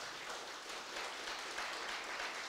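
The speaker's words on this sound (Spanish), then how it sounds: "Dale fuertes palmas al Rey." A church congregation claps steadily for the King, a dense and even wash of hands that holds at one level throughout.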